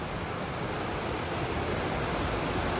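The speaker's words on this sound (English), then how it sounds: "Right outside our door, there's a river that runs through." A river runs right outside a room in Indonesia, a steady broadband rush of flowing water, loud and unbroken, with no voices.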